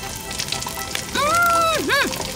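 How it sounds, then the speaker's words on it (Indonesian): A piece of preserved fish fries in a pan with a steady, close sizzling hiss that runs the whole way, while a brief wavering tonal voice-like sound rises over it partway through. "mengambil sepotong ikan yang diawetkan dari mangkuk dan mulai menggorengnya"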